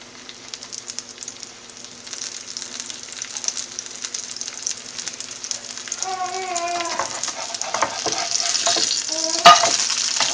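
Chicken pieces fry in a pan and get turned over, a steady close sizzle that grows louder and busier toward the end, with a sharp clack of the utensil against the pan near the finish.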